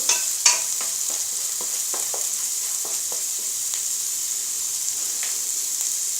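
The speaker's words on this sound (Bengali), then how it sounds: "হলুদ এবং মরিচের যে কাঁচা গন্ধ আছে সেটা চলে যাওয়া পর্যন্ত আমি এটি ভুনবো।" A spice paste of turmeric and chili fries in a pan in a steady, bright sizzle, with a spoon scraping and stirring in irregular taps and clinks close by, and no talk.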